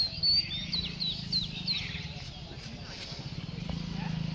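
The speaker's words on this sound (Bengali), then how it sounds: "ওই যে পাখি এখানে চলে আসছে, দেখছো?" A small bird chirping at a railway station gives a quick series of thin, high chirps early on, then falls quiet, while people talk nearby over a low background hum.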